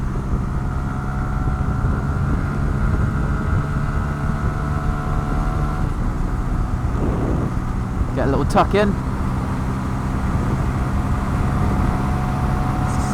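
A Honda Grom motorcycle's small engine drones steadily at speed, about 68 mph, with heavy wind rush over it as the rider tucks in. Someone briefly speaks and a faint passing vehicle sweeps by.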